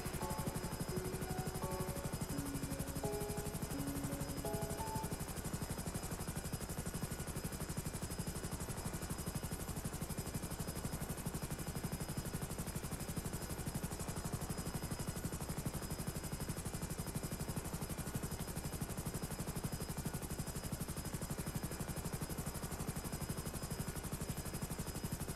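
A helicopter in GTA 5 comes in to land on a helipad, its steady, dense rotor and engine drone filling the whole stretch at an even level, with no talk.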